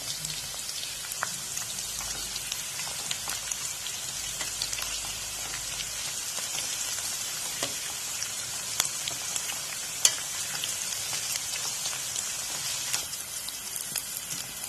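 Banana flower pakoda fries undisturbed in hot oil, a continuous soft bubbling sizzle with scattered crackles and pops, steady and fairly faint, with no voices.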